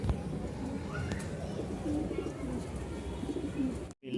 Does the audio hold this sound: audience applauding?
no